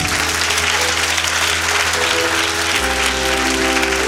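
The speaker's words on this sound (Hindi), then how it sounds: "यदि आपको समझ आ रहा है तो अपनी ताली को जोर से बनाएं।" A church congregation at a Hindi sermon claps loudly and continuously, a dense wash of many hands that fills the whole stretch over a low steady hum.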